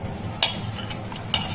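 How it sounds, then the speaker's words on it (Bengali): Boiled, peeled potatoes being mashed by hand for fuchka, with soft squelching stirs and two sharp clinks of a utensil against the bowl, close and alone. "এবার আলু মাখানা চলছে।"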